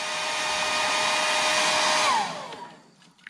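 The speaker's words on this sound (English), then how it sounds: "So now I'm going to take the hairdryer" A hair dryer blows steadily at close range over wet watercolor paint on paper, then switches off and winds down, leaving near silence.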